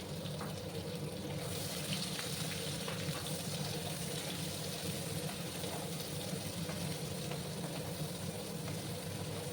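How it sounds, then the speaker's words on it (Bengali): Chopped onions sizzle on high heat in oil with whole spices for a Bengali mutton curry, a steady, even frying hiss running unbroken throughout. "একদম হাই আছে পেঁয়াজগুলোকে ভাজবো।"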